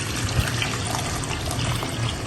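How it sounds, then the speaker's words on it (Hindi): Roughly a glassful of water is poured over scored tomatoes in a cooking pot, giving a continuous close splashing pour that stays even throughout with no talking. "1 गिलास जितना मैंने पानी डाल दिया है और इसको हमने बॉयल होने के लिए रख देना है।"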